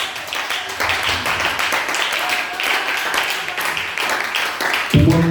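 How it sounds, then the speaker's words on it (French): A church congregation claps and applauds, dense continuous clapping that stays fairly loud throughout, with a louder burst near the end. "Nous allons donner de l'acclamation."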